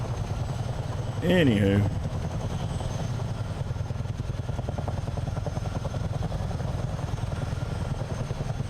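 A CH-47 Chinook helicopter in Microsoft Flight Simulator flies up the Potomac River, giving a steady rotor-and-engine drone throughout, with one brief spoken word early on.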